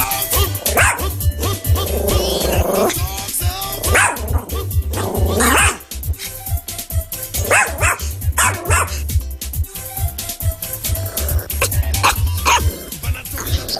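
Several dogs bark and yip repeatedly out on a street, close and loud, with whimpers between the barks and people talking and shouting over them.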